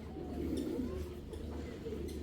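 A pair of Rampuri high-flyer pigeons coo close by, soft low throaty calls repeating over a steady background hum.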